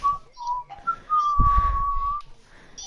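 A person whistles a wavering tune over Fortnite voice chat, fairly close and clear, with a few short notes and then one long sustained pitch over a burst of low rumbling game noise.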